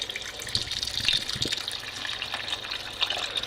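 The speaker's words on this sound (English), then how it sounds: "I'm going to put about 4 cans of chicken broth in, and then we're going to let that come to a boil." Chicken broth from about four cans poured into a pot for jambalaya, a steady liquid gush and splash running continuously at close range with no talking.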